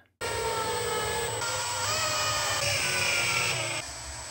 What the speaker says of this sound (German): Da benutze ich einfach die Schraube und drehe das Ganze in der Arbeitsplatte fest.